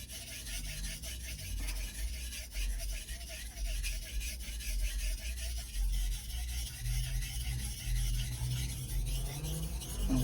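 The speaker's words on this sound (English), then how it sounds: "I kind of check myself while I'm sharpening on it, the stone" A ZDP-189 core steel Bunka knife is sharpened on a Suehiro 1000/6000 grit combo whetstone, giving a steady gritty rasping rub that continues throughout at close range, with a low hum underneath.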